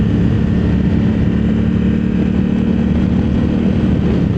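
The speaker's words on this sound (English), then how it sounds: "I'm in manual mode, and I'll hit my thumb, and we'll downshift second and third" A 2024 Honda Africa Twin Adventure Sport DCT motorcycle downshifting in manual mode gives a loud, close, steady engine drone throughout, with no speech.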